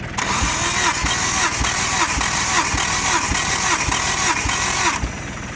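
A Honda motorcycle engine cranks steadily on the starter during a compression test on cylinder 3, a rhythmic chugging with regular compression pulses throughout, loud and close, then cutting off abruptly at the end.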